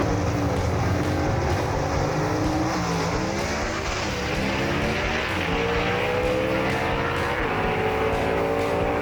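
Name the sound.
drag race cars, 58 Delray vs Tri-5 Chevy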